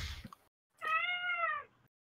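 A cat gives a single drawn-out meow, clear and fairly close, after a brief burst of other noise, during a motorsport podcast recording.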